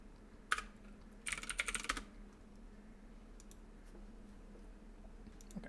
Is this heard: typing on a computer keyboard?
yes